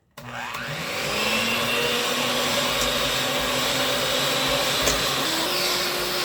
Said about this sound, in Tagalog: Ibibit ko naman ngayon ang 4 na egg white.